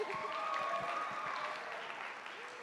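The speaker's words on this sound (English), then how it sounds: "let's give him a round of applause for that" Quiet clapping from a school TEDx audience for a tech crew member, soft and fairly distant, with a faint tonal hum and murmur beneath it, tapering slightly.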